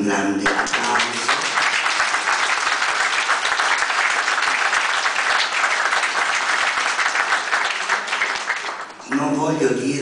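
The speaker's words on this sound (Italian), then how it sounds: "E io farei proprio a lei un grande applauso." Warm, steady audience applause at a book presentation, filling the room for roughly nine seconds before a voice resumes speaking near the end.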